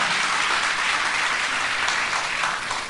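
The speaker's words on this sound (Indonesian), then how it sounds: "tepuk tangan yang panjang bagi Tuhan" A church congregation gives a long round of applause during worship, a thick, even wash of clapping from many hands with no voices on top.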